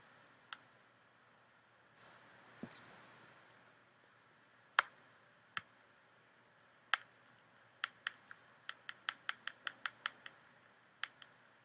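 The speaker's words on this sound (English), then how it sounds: "I'm out of room, so I'm going to erase this part." A pencil eraser rubs across paper, faint and close, with scattered scratchy strokes that turn into a quick rhythmic run of back-and-forth rubs toward the end.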